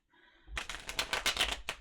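Tarot cards are shuffled by hand in a run of quick, crisp riffling bursts, close and fairly clear, with a faint hum before the shuffle starts and no talking.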